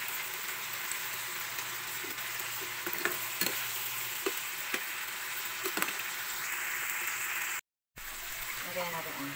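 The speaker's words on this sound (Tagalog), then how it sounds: "Magluto tayo ng alamang." Bagoong alamang shrimp paste frying in a pan with a steady, close sizzle, broken by occasional scraping stirs and clinks of the spatula, with a brief dropout near the end.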